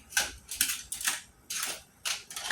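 Several crisp snipping cuts in an uneven rhythm, close and fairly quiet, as scissors slice through material in a kitchen.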